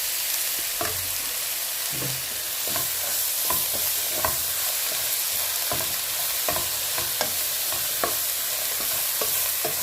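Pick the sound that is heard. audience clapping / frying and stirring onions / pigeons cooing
frying and stirring onions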